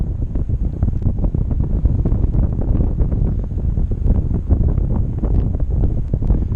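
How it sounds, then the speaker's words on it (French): Steady, loud wind buffeting the microphone during a paragliding flight, a continuous rushing roar with gusty flutter and no voices. "on se déplace, c'est le vent relatif ça"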